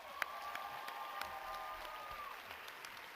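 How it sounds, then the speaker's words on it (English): Audience applause for contestants at a school pageant, a steady wash of clapping heard from some distance across a hall, with a faint sustained whistle running through it. "Please give us a round of applause for our 9 handsome contestants."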